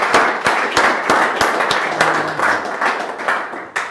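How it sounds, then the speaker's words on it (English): An audience at an IoT and startup funding event claps for a presenter from Skoog Music, giving a loud, close burst of irregular hand claps that continues steadily throughout. "Round of applause, why not?"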